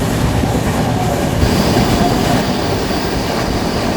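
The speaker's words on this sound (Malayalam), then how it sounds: "കൊച്ചുവേളി എക്സ്പ്രസ് ആണെന്ന് തോന്നുന്നത്." The Kochuveli Express rushes past on the Alappuzha–Kayamkulam stretch of Indian railway, a loud, close, continuous roar of rolling wagons with rail clatter and a faint high wheel squeal.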